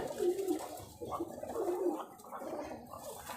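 An almond-coloured male pigeon coos close by in soft, throaty, rolling calls, several low burbling phrases in quick succession with no talk.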